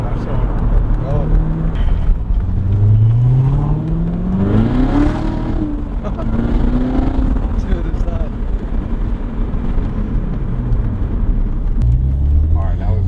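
Chevrolet Corvette C7 Z06 revs and accelerates hard from inside the car, its engine note climbing through rising sweeps over a loud steady roar, while people talk in the cabin.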